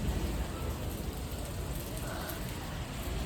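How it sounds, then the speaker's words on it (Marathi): Unexpected summer rain falls steadily outdoors, a dense, even patter that holds constant for a few seconds with no voices. "पाऊस पडत आहे."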